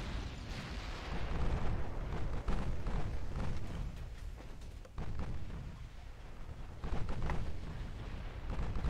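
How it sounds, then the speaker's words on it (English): Naval gunfire and torpedo hits rumble in the warship battle game Ultimate Admiral: Dreadnoughts, with a dense, continuous roar of booming blasts swelling and easing throughout. "Lizzie, whenever you're ready, send out the torpedoes"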